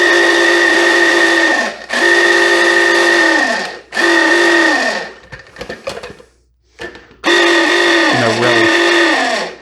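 A small electric food chopper whirs loudly in several steady bursts, each a few seconds long with short pauses between, as peppers are finely chopped for pepper steak.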